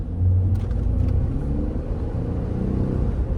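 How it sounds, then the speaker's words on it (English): Inside a Mercedes E280 CDI V6 in sport mode, a smooth, subdued low engine hum and road rumble build steadily as the car accelerates, heard from the cabin without speech. "The way this V6 performs, silky smooth, you can hardly hear it from the inside."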